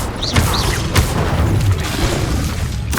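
Confringo fire spells explode in the Hogwarts Legacy video game, several booming blasts among crackling magical whooshes and chiming effects, loud and close, forming a dense burst of combat sounds.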